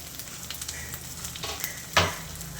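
Chopped green chillies frying in a pan for dhaba-style aloo bhuna potato gravy, a steady close sizzle with a sharp crackling burst near the end.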